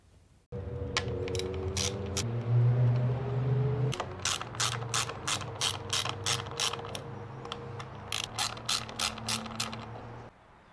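A ratchet loosens the 1/4 inch bolt on a 2013 Harley-Davidson Softail Deluxe ignition switch, giving close, sharp clicking in quick rhythmic runs over a low mechanical hum.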